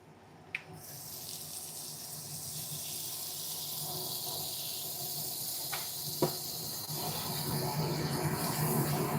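Bread sizzling in butter in a hot pan, a steady crackling hiss that grows slightly louder, with a couple of sharp clinks.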